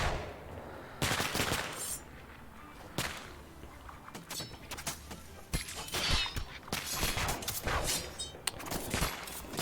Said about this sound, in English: apparently all that exploding is my cannoneers picking up cannonballs and then carrying them